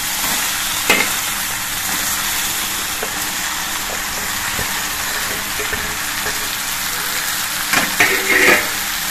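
Ridge gourd is tossed into hot oil seasoned with turmeric and spices and stirred in the pan, giving a loud, continuous sizzle with scraping stir strokes and a couple of sharper clatters.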